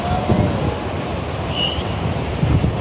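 Strong ocean waves at a beach resort in Nasugbu, Batangas, a steady rush of surf mixed with wind buffeting the microphone, continuous and fairly loud throughout.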